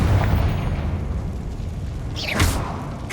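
A Confringo fire spell explodes in Hogwarts Legacy: a rumbling blast fades away, then a second sharp, bright burst erupts near the end, with no speech.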